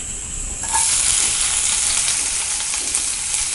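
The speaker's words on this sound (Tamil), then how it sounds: "கருவேப்பிலை ஆட் பண்ணுறோம்" Loud sizzling of onions and curry leaves hitting hot oil, jumping up sharply and then holding a steady crackling hiss nearby, with no talking.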